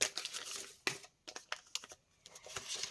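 Close crinkling and rustling of a paper surprise packet being torn open, in several sharp bursts separated by brief pauses.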